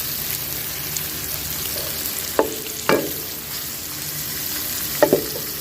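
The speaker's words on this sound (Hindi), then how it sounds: "अभी प्याज को कढ़ाई के अंदर डाल के थोड़ा सा इसको पका रहे हैं।" Onions frying in hot oil in a kadhai, a steady close sizzle with a few sharp spatula scrapes against the metal, no voices.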